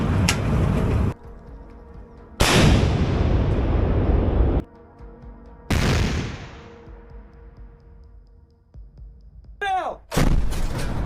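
An MSTA-B artillery gun fires in the Kherson region, with three huge booming blasts spaced a few seconds apart, each trailing off into rumbling echo, then a further loud burst near the end.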